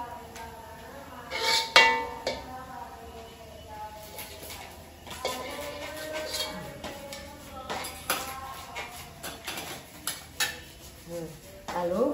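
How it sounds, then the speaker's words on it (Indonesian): Intermittent clinks and scrapes of a utensil against a pan over a low sizzle of garlic frying, with occasional soft voices in the background. "jadi emak mula-mula goreng ini bawang putih"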